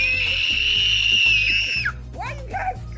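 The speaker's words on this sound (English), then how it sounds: "why are you guys screaming?" Children scream loudly in a long, high, sustained shriek that breaks off after about two seconds, followed by shorter excited cries and voices over a steady background hum.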